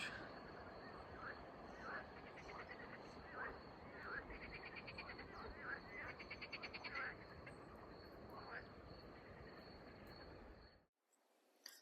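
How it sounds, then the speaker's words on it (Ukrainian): Frogs croak repeatedly in a steady outdoor chorus at an evening riverside fishing spot on the Southern Bug, with rhythmic calls rising over constant insect-like buzzing and background noise until it cuts off abruptly. "Жаби клапчуть."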